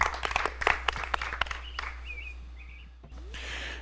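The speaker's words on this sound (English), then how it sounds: "Big round of applause for Beth Pascal." Scattered audience clapping at a Western States 100 pre-race interview session, a short uneven burst of claps that thins out after about two seconds, leaving a low hum and faint chirps.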